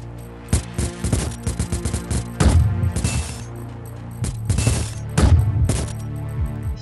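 Rapid bursts of synthetic gunfire in the arcade shooter Glitchskier on iPhone, rattling volleys with heavier booming blasts in between, loud and close, no talking.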